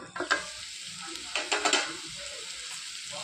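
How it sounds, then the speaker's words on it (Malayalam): Onion, tomato and snake gourd pieces sauté in hot oil for a Kerala snake gourd roast. A soft, steady frying hiss runs throughout, broken by a few sharp scraping clinks of stirring. "ഈ സവോളയും തക്കാളി അതുപോലെ തന്നെ പടവലങ്ങ കഷ്ണമൊക്കെ എണ്ണയിൽ കിടന്ന് നന്നായിട്ടൊന്ന് വഴന്ന് വരാൻ തുടങ്ങിയിട്ടുണ്ട്"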